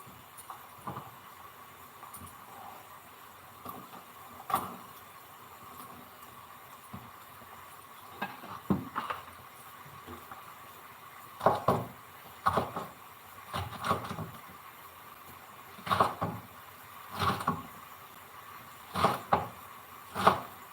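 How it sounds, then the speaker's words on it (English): French beans being chopped with a knife on a board in a home kitchen, scattered soft taps that gather into quicker clusters of cuts later on, faint and close. "Now I am going to chop these French beans."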